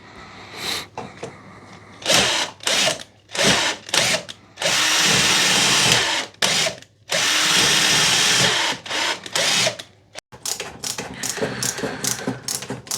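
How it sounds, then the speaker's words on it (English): Threads being tapped for a helicoil repair in an air-cooled Citroën 2CV flat-twin engine with the manifold off: loud bursts of drill-like whirring and ratcheting clicks, stopping and starting in short runs, with longer sustained passes partway through. "tapping for a helicoil repair"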